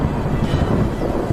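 Thunder from a storm rolls over the Serengeti plains, a deep, continuous rumble that fills the whole stretch at steady loudness, with no voices.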